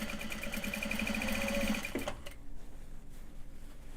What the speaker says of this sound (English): just get the top stitching done